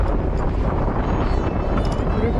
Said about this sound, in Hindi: रिकॉर्डिंग करने में भी दिक्कत आ रही है, हवा की आवाज़ आ रही है।